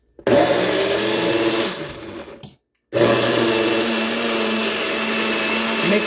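A blender whirs loudly, mixing a strawberry banana smoothie. It stops briefly, then restarts and runs steadily at full power, close by.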